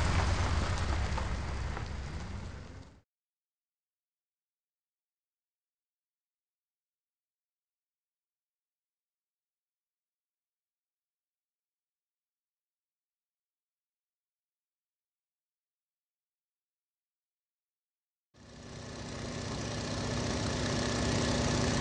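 A van engine idles with a steady, mid-pitched running sound. It plays in two short stretches separated by a long silence.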